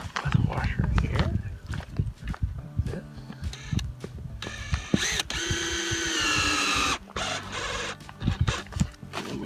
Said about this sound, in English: And then we put another screw with a washer here.